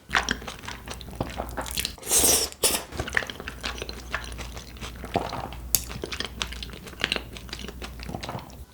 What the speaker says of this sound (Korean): 같이 먹을 동치미 김치 같이 먹을게요